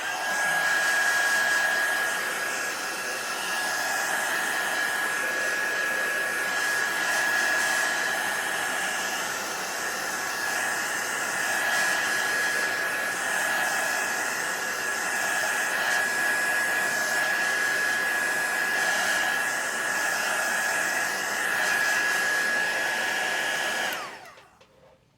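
A hair dryer blowing on a finger painting, a loud, steady whooshing roar with a constant motor whine running unbroken for about twenty-four seconds before switching off abruptly.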